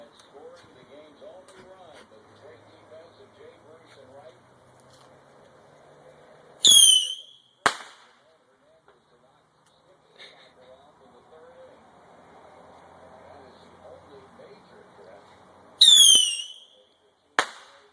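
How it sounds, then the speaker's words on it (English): Lady finger firecrackers and fireworks go off in two loud bursts, each a sharp whistling screech followed by a crackling bang, with people chatting quietly outdoors in between. "Yeah, the last fireworks in 1996."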